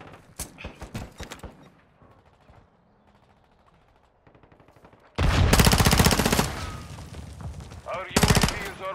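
Gunfire in Call of Duty: Modern Warfare II on the Shoot House map during Team Deathmatch: scattered bursts and single shots early, then a long, loud automatic burst and another short burst near the end, with game voices in between.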